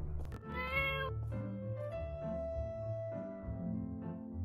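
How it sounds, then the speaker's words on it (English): A cat in the farming life-sim game My Time at Portia meows several times in a row, clear and close, with pitch sliding between calls. "Kitty's like, I want to play Spot the Differences too"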